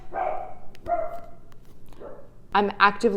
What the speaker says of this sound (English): if you can hear Faith barking outside